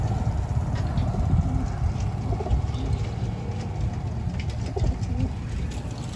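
Racing pigeons resting at a release site in Siniloan, Laguna, cooing softly and repeatedly in a close, steady murmur under low background rumble, with no talk.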